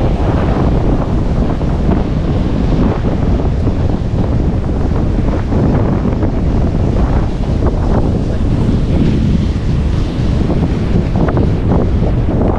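Out at sea, a strong wind roars over the microphone in a dense, unbroken rush, blending with the wash of ocean waves, loud and constant.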